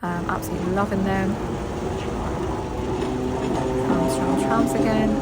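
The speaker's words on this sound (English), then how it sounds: "some more trams, absolutely loving them" Trams rumbling past on Hong Kong city streets, a steady continuous rolling rail noise with wheel tones and street bustle, voices murmuring throughout.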